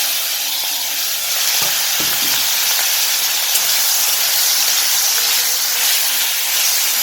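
Crabs coated in salt and turmeric fry in oil with a loud, continuous close sizzle, broken by a couple of soft knocks from stirring early on.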